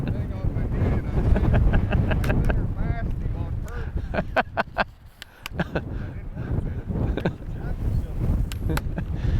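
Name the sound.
strong wind blowing on microphone outdoors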